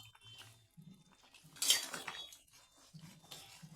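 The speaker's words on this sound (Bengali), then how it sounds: "নাড়াচাড়া করে নেব" Koi fish curry with potatoes and peas being stirred in a pan after ground roasted cumin, coriander and dried chilli powder goes in, a burst of metal clinks and scraping in the middle with soft low thumps before and after.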